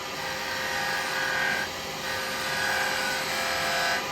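A detail chisel cuts a small wooden snowman icicle ornament spinning on a woodturning lathe, giving a steady, moderately quiet scraping hiss over the lathe's hum, with slight swells as the cut deepens.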